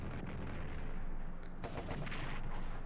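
Artillery fire in the World War I strategy game Strategic Command: a quick cluster of several sharp gunfire bursts and booms over a rumbling background, all within a few seconds.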